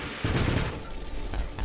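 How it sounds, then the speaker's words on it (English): A spaceship fires repeatedly in the space shooter game Nova Drift, producing dense, rapid, loud blasts over a rumbling, noisy game mix with no speech. "We're going to shoot, of course, as well."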